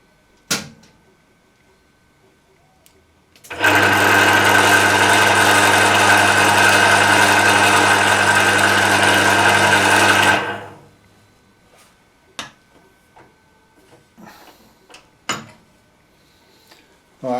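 Emco Maximat V10-P metal lathe on a three-phase converter runs in power feed mode, a steady loud motor hum with whine lasting about seven seconds before spinning down, followed by faint clicks and knocks.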